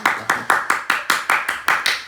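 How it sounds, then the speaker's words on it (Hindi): Ten sharp, evenly spaced hand claps in a steady rhythm, close and loud, with no voices. "तालियां बजाओ"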